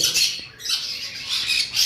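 Caged lovebirds at a bird farm make shrill, continuous squawking and chattering, loud and close, with no voices.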